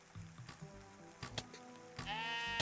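Sheep in the video game Necesse bleat in short bursts amid scattered clicks and game effects, ending in a longer wavering bleat, all fairly quiet.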